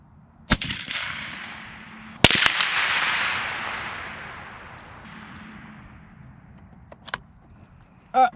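A .50 BMG rifle shot fired at an engine block gives a sharp, loud crack followed by a long rolling echo that fades over several seconds, with a few other sharp clicks and bangs before and after.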